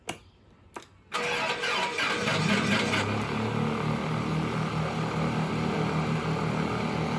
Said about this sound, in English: Just like starting an actual plane engine, and the engine starts using the key as well